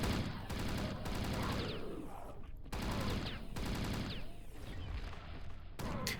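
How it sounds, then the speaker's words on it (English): Rapid continuous gunfire from a volcano chain gun in the shooter game Chasm: The Rift, dense loud bursts with brief pauses between them, heard alone without talking. "The volcano chain gun thing"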